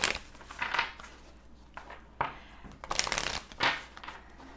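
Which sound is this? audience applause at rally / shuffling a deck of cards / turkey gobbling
shuffling a deck of cards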